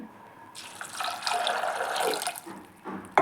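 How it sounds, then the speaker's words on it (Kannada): Water runs from a tap into a cooking pot for a fresh field bean curry, a steady splashing pour lasting about two seconds before tapering off. "ನೀರು ಹಾಕ್ತಾಯಿದ್ದೀನಿ"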